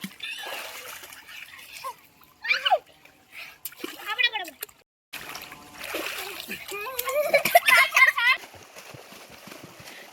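Children splash and jump into a village pond, with bursts of splashing water amid excited shouting and chatter, and a nearby turkey or fowl calling now and then.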